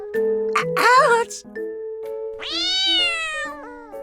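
A cat meows twice in the Love Esquire video game, a short chirp followed by a longer, rising drawn-out meow, set against electronic background music and chime tones.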